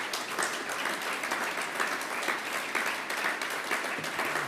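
Steady applause from an audience at a political speech by the new UK prime minister in Manchester, a dense continuous wash of clapping hands with no pauses across the whole stretch.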